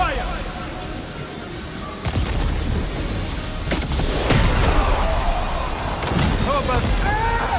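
Gunfire in the Death Stranding 2 video game, sharp broadband shots and booms scattered over several seconds amid a noisy battle backdrop, with voices heard alongside.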